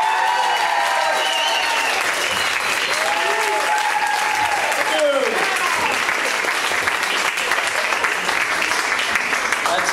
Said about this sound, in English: huge round of applause for Otis Bradley